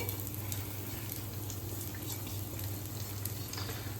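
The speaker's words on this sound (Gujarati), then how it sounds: "દાળને પણ આપણે હવે શું કરીશું? શેકી લઈશું." Moong dal roasting in ghee in a pan over a medium flame, a soft, continuous sizzle with light stirring scrapes over a low steady hum, close and moderately quiet.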